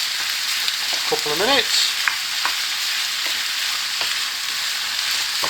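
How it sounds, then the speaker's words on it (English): Chicken pieces fry in a pan for a chicken balti while being stirred, a loud close sizzle with scraping and knocks, and a voice speaks briefly over it. "we'll put the chicken in. Give that a good stir for"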